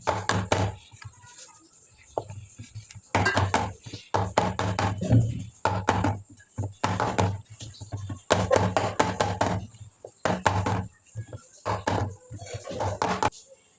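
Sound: tapping a tin of chocolate cake batter to remove air bubbles

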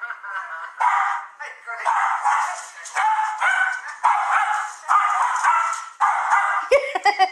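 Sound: dog barking

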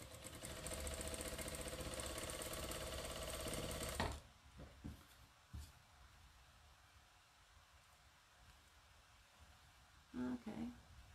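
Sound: sewing machine stitching a half square triangle quilt

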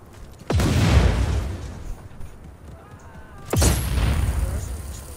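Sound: explosion in Just Cause 4 video game

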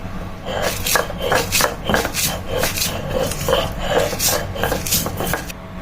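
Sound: chilies being ground into a paste for a mash

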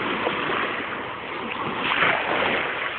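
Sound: gentle ocean waves lapping on the shore

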